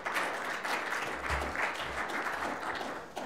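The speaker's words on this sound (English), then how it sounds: "Round of applause for Maurice and Sean." Attendees of a tech conference session on FPGA video acceleration applaud the two presenters, a short steady round of clapping at moderate volume with a few low thumps.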